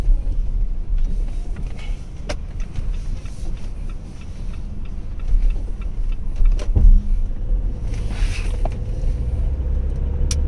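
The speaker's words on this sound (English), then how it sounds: "So the car is moving on its own." A car fitted with an automatic clutch control for a driver with a disability rolls along, its engine and road noise a steady low rumble with occasional clicks and a brief thump partway through.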